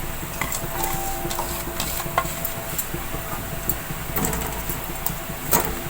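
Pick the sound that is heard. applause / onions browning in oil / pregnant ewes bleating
onions browning in oil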